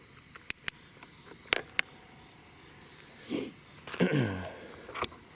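A few short, close sniffles and nasal snorts amid light clicks and rustling, with quiet gaps between them, outdoors in a cemetery on a chilly night.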